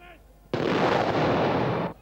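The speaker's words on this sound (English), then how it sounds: "There followed a feu de joie, a joyful volley." Soldiers fire a ceremonial rifle volley, a feu de joie, during a royal visit in West Berlin, heard as a sudden loud crackling burst that rolls on for over a second before cutting off, after a brief moment of narration.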